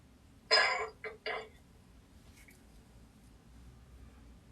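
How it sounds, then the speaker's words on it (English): A single sharp cough followed by two shorter coughs in quick succession, fairly close, then quiet room tone. "I jump every time there's a cough, so forgive me."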